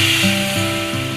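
Cumin seeds and a bay leaf sizzle in hot oil, a steady bright hiss running under a melodic background music track for about a second.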